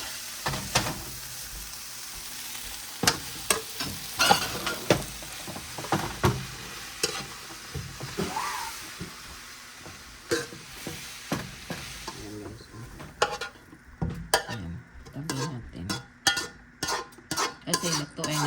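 Pancit noodles are stir-fried in a pan with irregular scraping and tossing clatters of a utensil over a soft background sizzle, close up and moderately loud, without talk.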